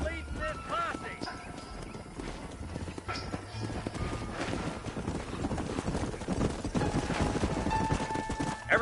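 Horses gallop in the Western video game Red Dead Redemption, their hooves pounding in a dense, continuous clip-clop. Voices and game sound run over the hoofbeats throughout.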